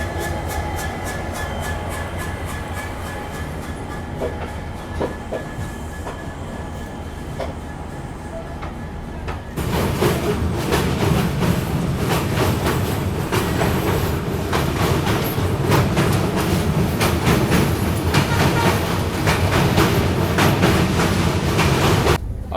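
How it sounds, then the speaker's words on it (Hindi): A passenger train hauled by a WDP-4B diesel locomotive in tricolour livery runs near Badarpur Junction, India, with steady loud rolling rumble and clattering wheels that grow louder and fuller about halfway through, no voices. "ये लगा हुआ है तिरंगा लिवरी में न्यू गुवाहाटी सेट का WDP-4B लोकोमोटिव।"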